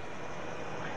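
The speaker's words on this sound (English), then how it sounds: "The next step is to start up Newcastle's Lynx helicopter" A Westland Lynx helicopter starts up aboard the Royal Navy ship Newcastle off Portland in 1985, a loud, steady, dense roar of turbine and rotor noise filling the whole second with no voices.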